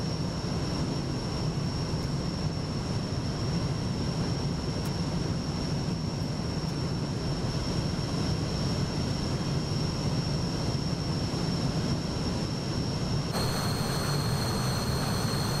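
A small airliner's engine in Microsoft Flight Simulator 2024 drones as a steady broadband roar with a constant high whine, unbroken throughout, its tone shifting slightly near the end.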